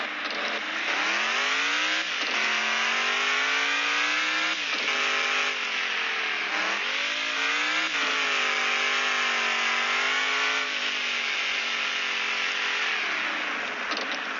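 Off-road truck in the video game Offroad Outlaws on a desert map, a loud continuous engine drone rising and falling in pitch as it revs and accelerates in rear wheel drive.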